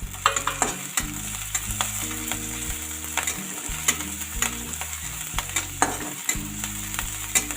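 Garlic, onion and green chillies sizzle steadily in a pan while a utensil scrapes and stirs them in irregular, close clinks and scrapes, with no talking.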